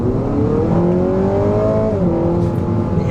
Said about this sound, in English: I missed that motor sound